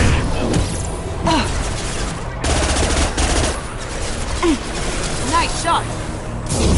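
Gunfire in the Mass Effect 2 video game, rapid bursts of shots running through the whole stretch, mixed with game effects and occasional in-game voices.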